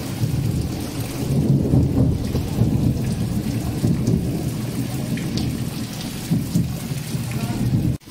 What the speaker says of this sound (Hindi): बादल कड़क रहा है।